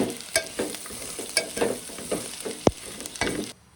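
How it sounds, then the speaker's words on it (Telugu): Vermicelli frying in ghee for sheer khurma, with a soft, continuous sizzle broken by repeated scraping stir strokes and one sharp tap near the end, close by and steady. "ఈ విధంగా ఫ్రై చేసుకోవాలి నెయ్యిలో."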